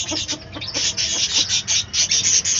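Country chickens and roosters kept on a rooftop terrace give rapid, repeated short clucking calls, close by and continuous with no one speaking.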